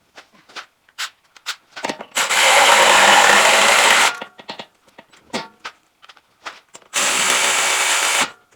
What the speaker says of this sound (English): That little electric ratchet is nice, but you can't torque anything down with it